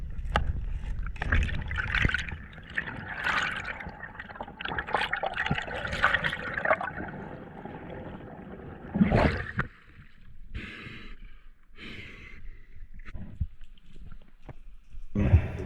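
Spearfishing diver swimming back out through the sea off New Zealand, close, churning underwater bubbling and sloshing water, with irregular surges and gurgles that thin into quieter intermittent splashes.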